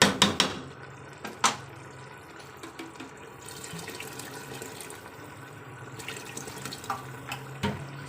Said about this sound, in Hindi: मैंने इसमें तकरीबन 1 गिलास से ज़्यादा पानी डाला है।